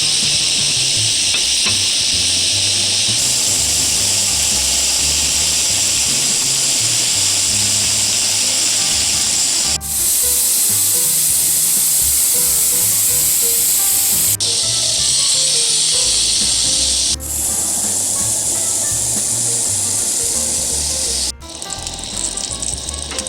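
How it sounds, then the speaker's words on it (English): Mushrooms sautéing in a hot sauté pan give a loud, steady hiss and sizzle that runs the whole time, shifting in intensity as the food moves, with no talking. "I've got my hot saute pan. I'm going to add my mushrooms."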